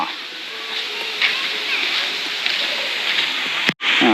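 The Santa Then waterfall in Chonburi, water rushing and splashing in a steady broadband roar close by, with a brief thump near the end.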